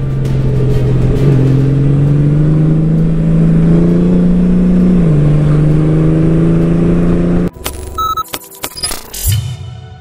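Honda Goldwing 2023 DCT touring motorcycle engine pulling hard under acceleration, a loud steady drone rising and shifting pitch for about seven seconds before breaking off into clatter and wind buffeting.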